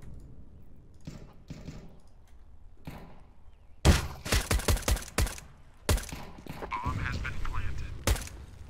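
Bursts of video game gunfire crack out in a rapid cluster of sharp shots, then several more scattered reports follow, fairly loud against quiet game ambience.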